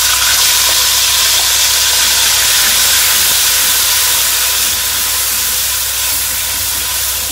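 Tomato gravy hits a hot pan with soybean chunks and sizzles in a loud, continuous, steamy hiss that stays steady throughout.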